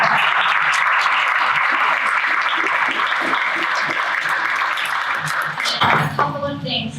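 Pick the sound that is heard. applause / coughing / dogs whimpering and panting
applause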